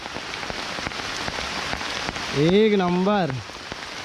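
Steady heavy rain hisses across the whole stretch while hunting crabs on a hilltop during the monsoon, with a voice speaking briefly over it near the end.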